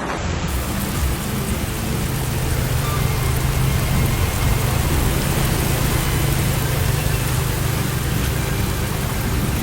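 Heavy monsoon rain pours steadily on streets in Islamabad during a thunderstorm, a dense continuous roar with low rumbling underneath, loud and close throughout.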